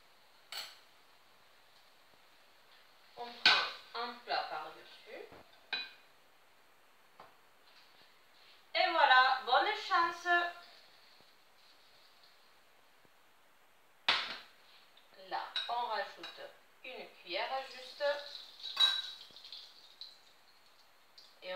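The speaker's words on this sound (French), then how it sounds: "Donc là, on va retourner notre omelette." Clattery bursts of a pan being handled while a Spanish potato omelette is flipped over, a few separate scraping, knocking episodes with quiet gaps between, close by and with no talking.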